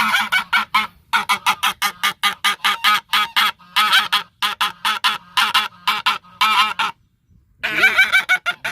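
A goose sitting on eggs honks loudly and repeatedly at close range, a rapid run of harsh calls broken by a few short pauses.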